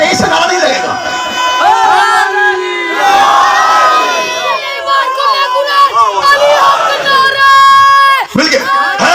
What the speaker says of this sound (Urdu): یہاں سے مجمع میں سے نعرہ لگے گا